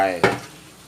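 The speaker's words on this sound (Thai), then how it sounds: "ผัดไปเรื่อยๆนะครับจนกว่าหอยทั้งหมดจะอ้าออกนะครับ" Surf clams stir-fried with chili paste in a hot pan: one quick scrape of the spatula bursts over a hissing sizzle, which then fades into a softer crackle.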